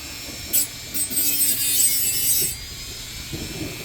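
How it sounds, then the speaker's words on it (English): A small rotary cutting disc grinds on a part of a 12 gauge double barrel shotgun, a harsh high whine in short bursts followed by one longer continuous cut of about a second and a half, close and loud, with no talking. "So switch it back to the cutter. The cutting disc."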